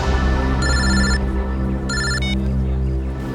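A telephone rings in two bursts of electronic trilling, separated by a short pause, loud and close over a low background hum, with no voices.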